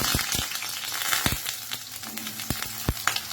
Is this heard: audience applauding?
no